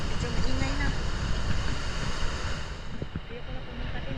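Wind rushes over a shoreline while sea waves roll in, a loud, continuous blustery roar with buffeting across the microphone and no clear speech.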